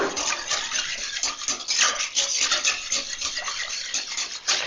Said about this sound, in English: at this point, I'm just going to give a good stir.